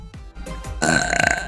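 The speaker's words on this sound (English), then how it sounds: "That was a good burp." A loud, long, gurgling burp rolls out after a couple of short throaty clicks, swelling into a drawn-out rasp that fills the moment close to the microphone.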